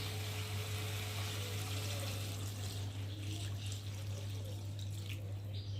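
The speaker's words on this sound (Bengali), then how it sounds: "আর আমি এখন পরিমাণ মতো জল দিয়ে ভালো করে ফুটিয়ে নেব" Water pours steadily into a pan of raw banana curry set to boil, a continuous close trickling and splashing over a low hum, with no talk.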